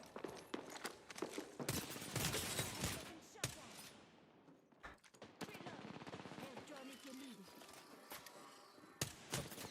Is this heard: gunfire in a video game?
yes